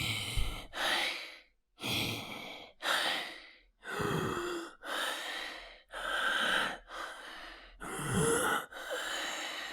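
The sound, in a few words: breathing recorded for game sound effects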